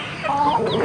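Barako roosters cluck in a short, close burst, a few overlapping calls rising over steady farmyard background noise.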